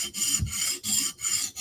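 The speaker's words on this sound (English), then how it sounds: "Sharpen a little bit more on this side." A knife edge is drawn across a sharpening stone in four strong, even strokes, each a close, gritty rasp separated by short pauses.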